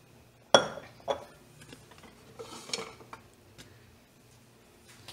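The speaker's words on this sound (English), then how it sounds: "we have to keep stirring it so that it won't stick at the bottom" A spoon clinks against a pot while about 4 to 5 cups of soy milk heat toward a simmer for homemade tofu. A few sharp metallic taps are followed by softer scraping and stirring knocks, close and fairly quiet.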